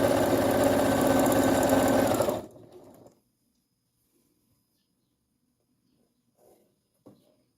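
A sewing machine stitches the border of a baby cloth diaper in one steady, close run that stops abruptly after about two seconds, followed by near silence and a couple of faint handling taps.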